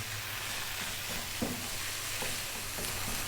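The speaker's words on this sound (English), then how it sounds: "just frying these around on an above medium heat" Continuous sizzling of food frying in a pan over above-medium heat, with occasional stirring scrapes, close and steady, no talking.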